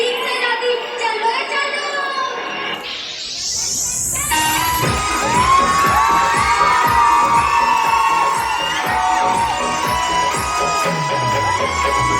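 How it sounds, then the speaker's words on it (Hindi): Audience at a school annual cultural function cheering, whooping and clapping loudly and steadily, a dense sustained crowd roar that swells after a brief rising sweep and continues to the end. "तो जोरदार तालियों के साथ स्वागत करते हैं हरियाणवी गर्ल्स का।"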